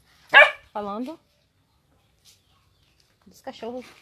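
Dogs bark in a home backyard, two sharp barks close together near the start, then a quiet gap before a short burst of two or three more barks.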